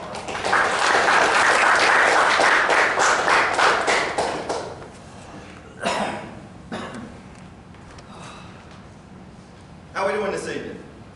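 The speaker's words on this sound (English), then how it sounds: "So we get a big round of applause for our speaker" A room at a county Republican Party meeting breaks into loud applause for a speaker. The clapping fades after a few seconds, followed by scattered coughs and thumps and then talking.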